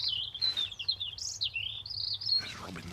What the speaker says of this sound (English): it's not a normal robin's song. A few minutes ago, it was singing at full volume